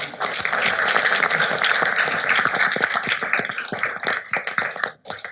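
Dense, steady applause from a city council meeting audience for two MVP award winners, loud and continuous for about five seconds before thinning out and stopping abruptly near the end.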